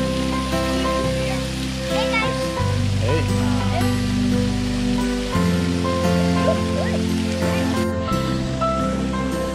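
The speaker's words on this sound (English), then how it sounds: "And there's a 100-foot waterfall." Roaring rush of a 100-foot waterfall at Manoa Falls in Hawaii, a steady broadband wash of falling water close by, with strong tonal hum and humming music-like layers running throughout.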